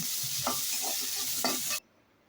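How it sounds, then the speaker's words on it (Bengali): Black cumin, a dried red chili and onion sizzling in hot oil as a tempering for a bottle gourd and prawn dish, a close steady hiss with a few stirring scrapes before cutting off abruptly. "কালো জিরে ফোড়ন দিলাম একটা শুকনো লঙ্কা দিলাম পেঁয়াজ দিলাম"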